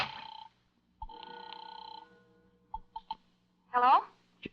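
An old telephone rings in a 1950s–1960s radio mystery drama, with steady bell tones near the start and again a second later, followed by small handling clicks and a short vocal sound.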